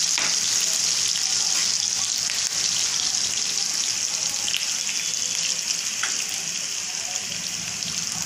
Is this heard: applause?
no